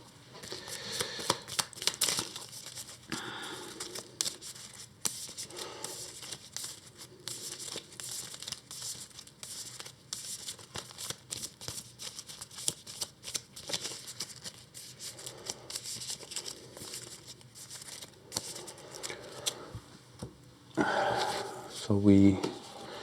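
Cards from the Earthborne Rangers card game are shuffled and handled on a tabletop, giving soft rustling, crinkling and flicking sounds throughout, with a voice talking quietly between them and a louder shuffle near the end.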